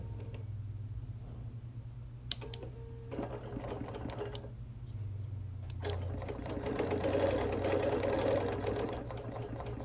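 A sewing machine quilts a wool appliquéd quilt in short runs, its rapid mechanical whir steady and close, stopping and restarting with small clicks, then running longer toward the end.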